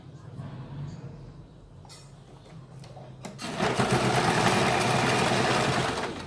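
A sewing machine stitches a kurti seam: quiet handling and faint clinks at first, then the motor whirs up into a loud, rapid, steady needle chatter that runs for several seconds before easing off.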